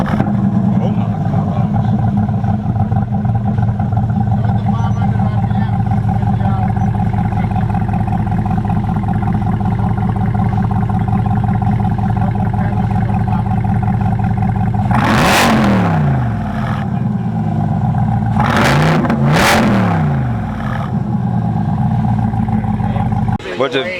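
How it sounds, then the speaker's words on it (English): A Corvette C8 70th anniversary edition with a throaty exhaust rumbles loudly and steadily up close, breaking into a few sharp revving blasts near the end while people talk over it. "C8 70th anniversary car with a nice throaty exhaust"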